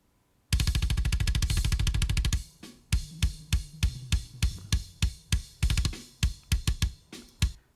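Processed kick drum captured on a Beta 91 microphone: a fast sustained roll of punchy hits, then spaced single and double thumps in a driving rhythm, loud and close, with no voices.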